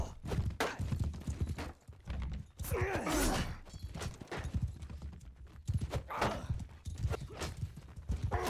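Horse hooves clip-clop through a Mount and Blade 2: Bannerlord multiplayer cavalry battle, a steady galloping patter mixed with creaks, clashes and a brief whinny-like sweep amid dense battle noise.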